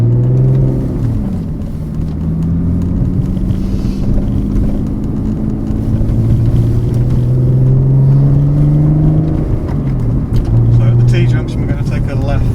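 A Porsche Cayman's engine drones loudly from inside the cabin on A and B roads, rising and falling in pitch through gear changes, with road rumble and a voice talking over it.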